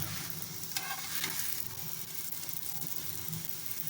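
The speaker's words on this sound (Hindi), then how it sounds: "ऑयल, मक्खन या घी जो आप डाल के इसको सेकना चाहें सेक लीजिएगा।" A green paratha fries in ghee on a hot pan, giving a steady close sizzle with soft scraping and pressing sounds throughout.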